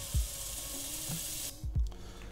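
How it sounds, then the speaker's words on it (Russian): Cold water runs from a tap into an old deep frying pan holding caustic soda, a steady faint rushing stream broken by a few soft splashes and clunks. "добавим туда каустической соды, едкого натрия, и зальем холодной водой"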